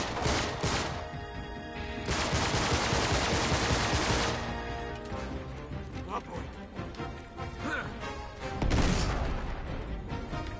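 Pistol gunfire in an Uncharted video game shootout in a crypt: sharp shots crack in bursts amid clattering impacts and loud bangs, with a player talking between them.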